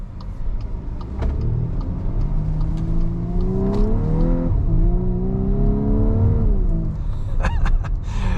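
A 2024 Volkswagen Atlas four-cylinder engine pulls hard under acceleration with paddle-shifted gears, its rising drone climbing in pitch, dropping at a shift, then climbing again, loud and close inside the cabin with no talk.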